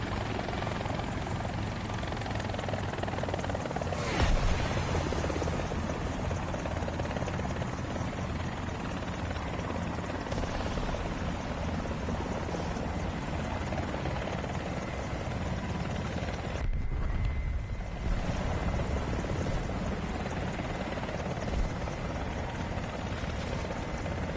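Helicopter in the War Thunder video game, a steady, loud rotor and engine drone that fills the whole stretch with constant thumping wash and no talk.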